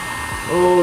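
A hot-air heat gun warms a part for an RC paintball gun build; a broadband rush of blowing air steadies into a rising motor whine over the short, close stretch.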